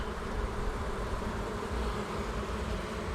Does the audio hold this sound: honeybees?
yes